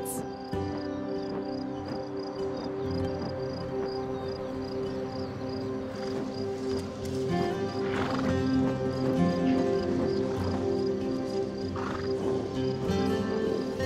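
Wild horses move through a Hungarian marsh, their hooves clopping and splashing at close range while several neighs and whinnies ring out, over a faint background of crickets and other insects.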